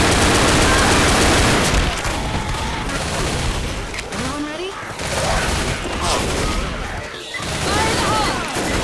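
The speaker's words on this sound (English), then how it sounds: "A pipe bomb." A pipe bomb goes off in the Left 4 Dead video game amid a heavy barrage of gunfire and booming blasts, loud and continuous, with a voice talking underneath.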